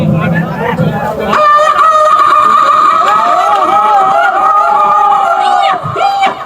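A man vocally imitates a hen clucking before laying an egg, loud, drawn-out squawking calls close to the microphone, with crowd noise and cheering around him at a live comedy show.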